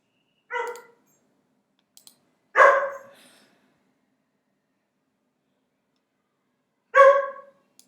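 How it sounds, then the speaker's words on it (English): Three sharp dog barks ring out in a quiet room, spaced irregularly with long silences between them, a few faint clicks in the gaps. "I don't know if you heard that. That was my dog Sizzle wanting to go out for a walk."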